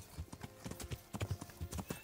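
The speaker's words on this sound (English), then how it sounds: "he's riding a horse." Horse hooves clip-clopping in the video game Kingdom Come Deliverance, an uneven run of soft, quick hoofbeats at moderate distance, fairly quiet, with no speech over them.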